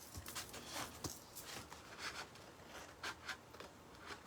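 Scissors cut paper into a strip in a quiet indoor room, making a series of soft, crisp snips and rustles at an uneven rhythm, close by and with no voices.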